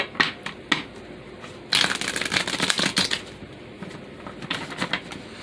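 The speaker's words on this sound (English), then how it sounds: "I have no idea why I'm shuffling." A deck of playing cards being shuffled by hand, close and fairly quiet: scattered riffle bursts at first, then a longer dense flurry of flicking cards, a pause, and another shorter run of shuffling.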